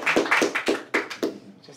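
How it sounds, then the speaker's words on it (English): A few audience members clap in a small room as a talk begins, a sparse handful of sharp claps in an uneven rhythm, close and fairly quiet. "go ahead, you can clap"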